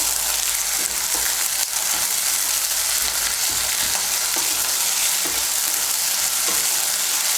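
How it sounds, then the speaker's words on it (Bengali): Ground ginger and green chili paste frying in hot oil for latha fish curry, giving a constant close sizzle with a few soft stirring scrapes and no talking. "আদা বাটা কাঁচা লঙ্কা বাটাটাকেও মিশিয়ে নেব তেলের সঙ্গে।"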